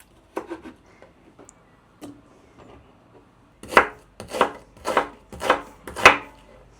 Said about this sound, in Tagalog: ako nga ay naatasang maghiwa ng kamatis at sibuyas para sa ating insaladang talong